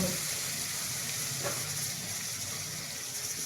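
Coriander goes into a hot frying pan of curry and sizzles with a steady, close hiss that holds evenly throughout.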